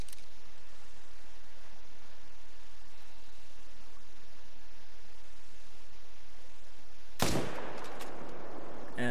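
A hunting rifle shot at a red deer in theHunter: Call of the Wild, fired once as a sharp, loud crack late in the clip after a long stretch of quiet hiss.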